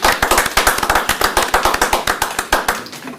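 A county commissioners court meeting room breaks into a short burst of applause for a Texas School Assessor Association president: close, rhythmic clapping with sharp regular claps that stops abruptly after about three seconds.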